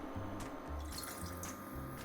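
Water poured into a pot holding flour and sugar on a hob at medium-high heat for choux pastry, a steady, soft running and splashing flow at moderate distance with no talk.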